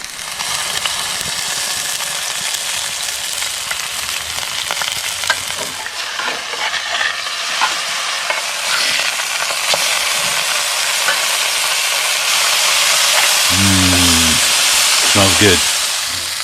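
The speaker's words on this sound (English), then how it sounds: "Cooking lunch." Food fries in a pan while lunch is cooked at Little Pond Campground, with a steady close sizzle and hiss, occasional stirring scrapes and brief voices nearby.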